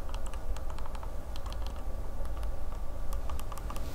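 Small plastic D-pad buttons on a Gamesir X2 Type C gamepad are pressed repeatedly, giving quiet, soft clicks in an irregular run over a steady low background hum.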